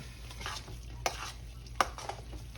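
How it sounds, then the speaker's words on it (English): A cornbread dressing mixture is stirred in a bowl, producing a soft continuous wet scraping with two sharper knocks of the spoon, close and quiet with no voices. "Let me stir this up a little bit before I add my eggs"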